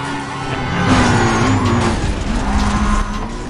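A tuned Lotus races in Need for Speed Undercover, its engine roaring loudly up and down through revs with tire squeal and a skidding edge, one continuous close drive.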